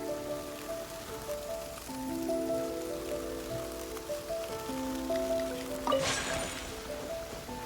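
Rain falls steadily in the video game Genshin Impact, a soft continuous patter under a gentle musical background, with a brief swell of splashing near the end.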